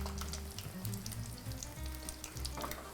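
An egg fries in a pan with a soft, continuous sizzle and crackle, quiet and steady with no voices.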